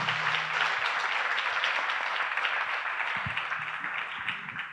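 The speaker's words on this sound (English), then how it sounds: "won't you give God a hand of praise and a thank you clap to them?" An audience applauds panelists at a conference on Christianity and white supremacy, a sustained wash of clapping from a crowd that holds steady and slowly fades.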